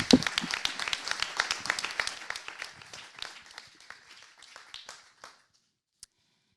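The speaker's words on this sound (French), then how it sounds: "Je pense qu'on peut l'applaudir." An audience at a talk by a clinical psychologist applauds, a burst of clapping that starts full and gradually thins to a few scattered claps before stopping, followed by one last lone clap.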